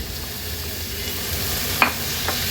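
Bitter gourd pieces, seeded, hit hot oil with turmeric and masala on high flame, giving a steady sizzle and frying crackle with a couple of sharp pops near the end.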